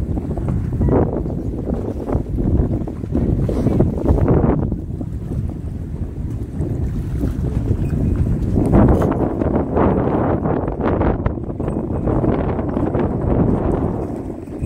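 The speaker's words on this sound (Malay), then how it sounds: "Angin kuat lagi tu." Strong wind buffets a fishing boat out at sea on a reef trip off Perak, a loud, steady broadband roar of gusts and water that fills the whole stretch with no letup.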